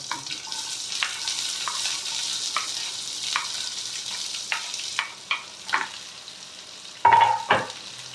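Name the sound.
chopped onion and green chilli sautéing in pan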